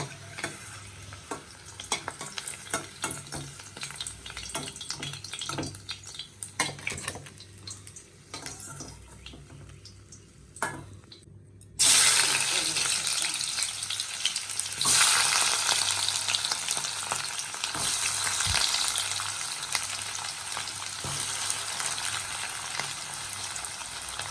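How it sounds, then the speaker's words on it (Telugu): Eggs frying in a pan for egg curry, a low steady sizzle that jumps to a loud, dense crackle about halfway through and stays strong to the end, with occasional stirring clicks and no talk. "గుడ్లు వేగితేనే తీసేద్దాం"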